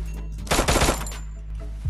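Gunshots in the mobile shooter Free Fire, a quick rapid burst of shots lasting about half a second, loud and close over a steady low game hum.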